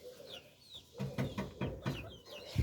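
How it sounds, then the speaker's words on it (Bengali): Pigeons outside chatter faintly with soft cooing, clucking notes and a few higher chirps in short bursts, heard at a distance. "বাহিরে মনে হয় কবুতর ক্যাচর ম্যাচর করছে"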